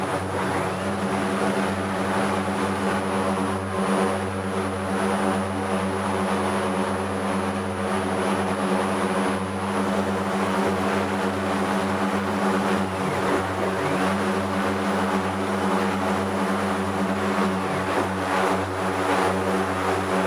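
An AzurPoly OV-10 twin-propeller aircraft in Microsoft Flight Simulator climbing after takeoff, a steady loud propeller and engine drone with constant pitch, alone throughout.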